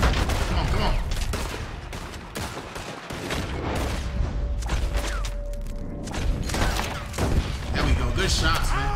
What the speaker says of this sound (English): Oh, good shot, man. Good shot, Dutch.